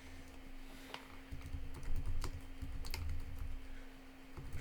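Typing on a computer keyboard: scattered, uneven key clicks, close and fairly quiet over a low steady hum, with no voices.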